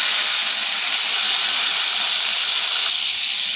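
Two tomatoes go into hot oil in a pan and sizzle with a loud, steady high hiss that holds evenly throughout, with no talking over it.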